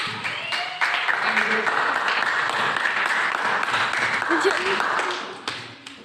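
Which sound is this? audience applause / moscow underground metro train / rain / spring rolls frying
audience applause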